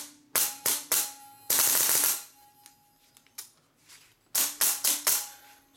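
Pneumatic-assisted pump Autococker paintball marker firing in two quick bursts of sharp, loud cracks, each with its pneumatic hiss and mechanical clatter, then quieter rattling and a final burst of rapid shots.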